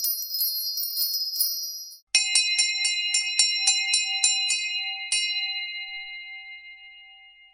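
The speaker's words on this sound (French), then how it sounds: "La cloche a retenti" A bell rings in a rapid series of bright, metallic strokes, first a high-pitched run, then a steady chain of about a dozen lower clangs. A final strike is left to ring out and fade. It is close and loud, with no talk.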